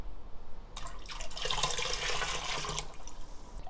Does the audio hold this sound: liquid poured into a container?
yes